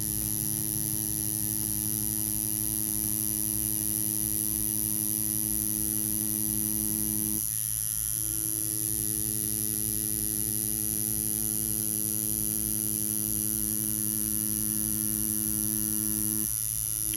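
An Ambition Ninja wireless tattoo machine runs continuously, a steady close electric buzz and hum with a brief dip in tone partway through, alone without speech.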